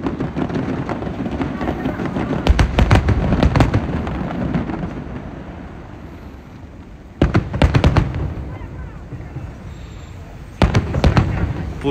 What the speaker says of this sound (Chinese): 这是政府放的烟花